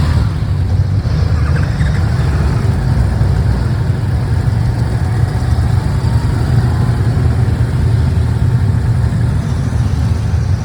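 Steady motorcycle engines idling and droning in traffic, loud and close, a continuous low rumble with a faint whine throughout and no voices.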